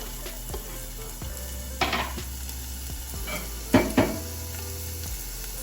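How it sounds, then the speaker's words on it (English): Onions frying in hot oil in a pot give a steady close sizzle, broken by a few brief clatters and scrapes of a utensil against the pot, with no talking. "Let that heat up a little bit so we can add the onion."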